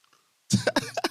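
A single person clears their throat after a brief quiet moment, a close, sharp rasp followed by a few short guttural bursts.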